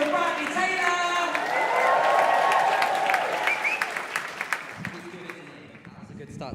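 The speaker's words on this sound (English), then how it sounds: "Let's hear it for Bradley Taylor!" Crowd at a Roundhouse poetry slam final applauding and cheering for a poet, loud sustained clapping with whoops that tapers off over several seconds while voices carry through.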